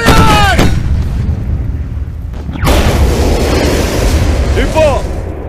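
Artillery cannons fire in a battle scene from a Tamil-dubbed 1911 war action film, a loud, heavy boom bursting midway through, with shouted voices before it.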